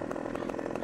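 A chainsaw in the video game Farming Simulator 17 runs in a brief, loud, steady burst with a fast pulsing buzz.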